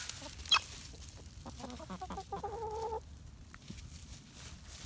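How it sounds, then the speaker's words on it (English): A hen clucks softly in a short run of calls, fairly close but faint, over a low background with a few brief sharp noises. "Little Henny took a peck."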